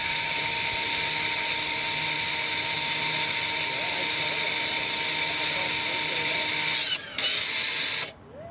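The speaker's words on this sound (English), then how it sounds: "Push and hold until you start hearing the motor in the back." An electric parking brake actuator motor at the rear of a 2019–2024 Lexus UX whirs steadily with a constant mechanical hum, close and continuous, then cuts out near the end.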